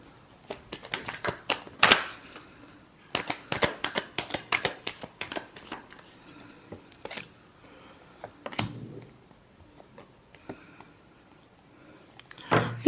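Tarot cards being shuffled by hand in a quiet room, a run of crisp riffling bursts and soft flicks that comes and goes in uneven clusters, close and moderately loud, with no voice over it.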